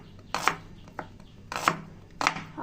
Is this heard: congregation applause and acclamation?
no